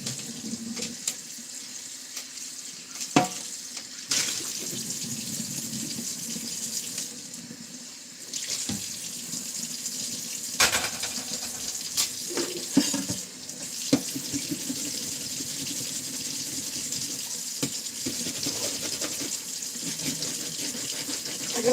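A spatula washed under a running kitchen tap: a continuous, close gush of water into the sink, broken by splashes and clatters as the utensil is moved through the stream.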